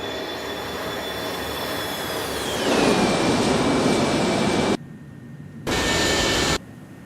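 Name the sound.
Airbus A300-600R freighter jet flyby in X-Plane 11 video game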